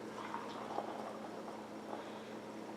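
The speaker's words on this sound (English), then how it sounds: "So I'm just going to pour some hot water in there." Hot water is poured into a cup holding a milky powdered Japanese drink, making a faint, steady close trickle and fill with a few soft splashes.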